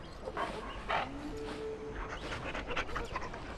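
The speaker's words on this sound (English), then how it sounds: "Oops, silly dog." A dog named Murphys in the Dragon Age: Origins video game pants in quick, soft breathy bursts, close and fairly quiet, with a few short gaps between rounds.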